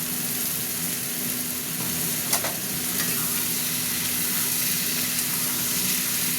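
Potatoes and slit green chillies fry in a hot pan, giving a steady, close, dense sizzle with a faint stirring scrape and no talking.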